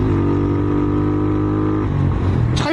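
Suzuki Thunder 125 motorcycle with a changed sprocket and power pipe runs at a steady, relaxed rpm, a close droning engine hum with throaty exhaust that shifts slightly near the end.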